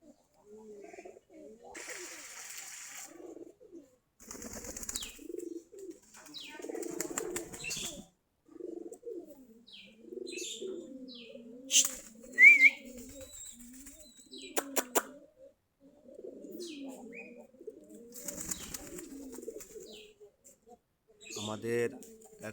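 Giribaz pigeons, about forty pairs kept in home coops, cooing in soft low bursts with a few chirps and brief wing flaps, heard under someone talking nearby.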